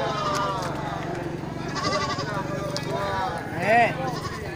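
Goats bleat among a group of livestock. The bleats are mid-distance and sit under someone speaking steadily, with one louder cry near the end.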